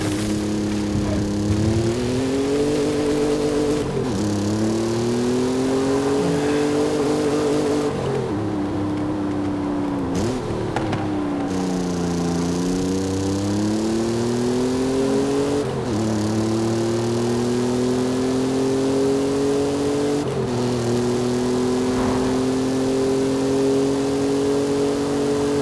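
A Ford F-150 Raptor engine drones loudly and steadily while driving off-road in Forza Horizon 5, its pitch climbing and dropping with each gear change and rev, with no talking.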